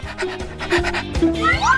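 Quick, rhythmic panting from a puppy, breathy huffs close by, with a few high squeaky tones mixed in over the short burst.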